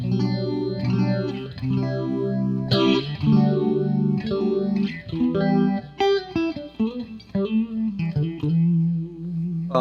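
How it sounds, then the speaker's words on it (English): An electric guitar plays chords and melodic lines through a Boss phase shifter pedal, a sweeping, swirling modulation effect, loud and continuous without any voices. "Next, we have the phase shifter by Boss, which is cool."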